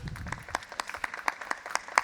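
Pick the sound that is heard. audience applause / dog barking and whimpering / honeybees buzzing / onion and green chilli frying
audience applause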